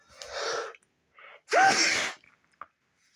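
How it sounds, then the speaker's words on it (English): A sharp in-breath is followed by a loud, nearby sneeze, then a brief quiet sniff. "you gotta sneeze"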